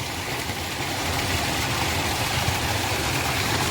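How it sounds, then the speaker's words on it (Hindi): A tube well pump engine runs on a farm in a steady, dense, unbroken drone, loud and close, with no talk. "भाइयों ट्यूबवेल चल रहा है हमारा।"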